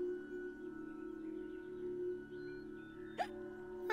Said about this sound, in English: Oh, you even hiccup.